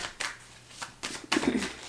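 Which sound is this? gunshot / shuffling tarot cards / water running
shuffling tarot cards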